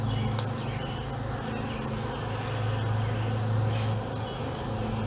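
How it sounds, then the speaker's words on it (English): A swarm of honeybees settling into a new beehive makes a steady, dense buzz that fills the whole span at moderate level, with a low droning hum underneath and no voices. "Most likely there were more queen bees in this swarm than just one."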